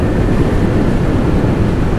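A strong gust of wind hits as a heavy truck passes on the BR-163 highway in Mato Grosso. It makes a loud, steady, broadband roar with deep rumbling and wind buffeting the microphone.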